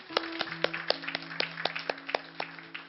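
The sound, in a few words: congregation applause in church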